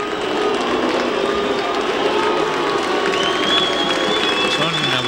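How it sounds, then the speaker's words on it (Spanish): Football stadium crowd at a World Cup qualifier, Guatemala versus Suriname, a steady broad roar of jeers mixed with scattered applause, continuous and distant, with a commentator speaking over it. "Son abucheos para el Pando."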